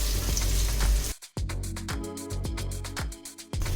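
Onion and oil sizzle in a pan for an egg curry, a steady close frying hiss that cuts out briefly, then returns with rhythmic stirring or scraping beats.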